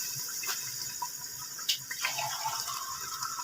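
Water poured from a glass into a cooking pot of tinda gosht curry, a soft, faint splashing trickle with a few brief louder gushes, heard alone in a quiet kitchen.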